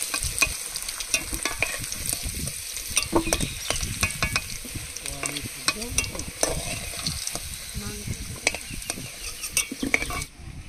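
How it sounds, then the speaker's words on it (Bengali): Potatoes fry in oil in a wok beside a goat meat and prawn dish, giving a loud, crackling sizzle while a utensil stirs and scrapes against the pan in frequent close knocks. "এবার আলুগুলো ভেজে নেবো।"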